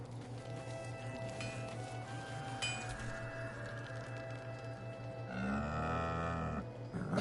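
An ox lowing in the fantasy role-playing video game Baldur's Gate 3, one deep drawn-out moo rising near the end over a quiet ambient game soundscape with faint clinks and a low steady hum.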